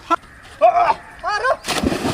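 A boy jumps into canal water during a Ganesh idol immersion, and a sharp broadband splash bursts in near the end, following shouting voices.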